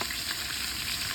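Onions and cardamom fry for chicken biryani, giving a steady, close, even sizzle with faint stirring that runs unbroken through the short moment, with no voices.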